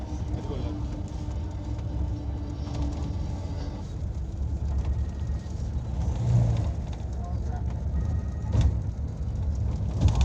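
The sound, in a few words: auto rickshaw driving on road to temple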